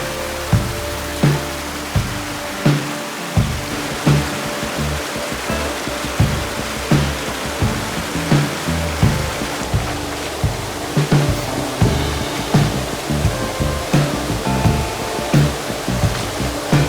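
Rainforest creek water flowing steadily in broadband wash, with repeated soft splashes and footfall-like bumps close by, continuous throughout with no voices.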